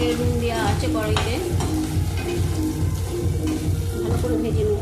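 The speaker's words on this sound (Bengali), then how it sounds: "ভালো করে ভেজে নেবো।" Paneer pieces with turmeric frying in a hot kadai, with a steady close sizzle and repeated stirring scrapes throughout, a voice faintly in the background.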